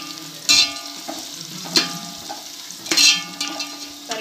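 Onions with salt sauté in a pan for a Diwali mutton biryani, their soft sizzle punctuated by several loud metallic scrapes and clanks of a spoon, close and uneven.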